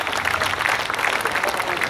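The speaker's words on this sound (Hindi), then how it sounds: "इन महिलाओं के लिए एक बार जोरदार तालियां बजाएं आप।" Sustained, dense applause from a seated audience at a women's committee poetry gathering in Sujangarh, steady and full throughout with no talking over it.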